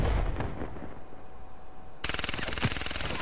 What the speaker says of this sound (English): Somebody's shooting at you